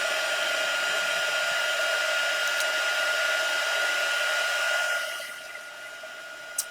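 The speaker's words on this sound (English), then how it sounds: "we're going to take our heat tool. We're going to heat the resin up" A handheld heat tool blows hot air over craft resin, a steady whirring fan hiss with a constant tonal hum, close and even, then cutting down as it is switched off near the end.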